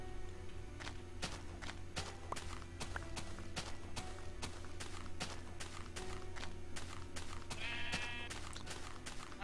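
Sheep bleating in the video game Minecraft, a short faint bleat near the end over a steady run of regular footstep clicks and a constant low background hum.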